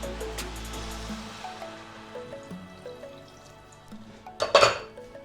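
Water trickles and splashes into a metal pot, ending in a short, louder gush, over a soft steady hum.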